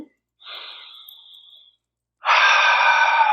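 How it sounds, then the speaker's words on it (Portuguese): Two slow, deep breaths: a soft drawn-in breath, a pause, then a louder, longer breath out, close to the microphone. "eu vou convidar você a respirar profundamente"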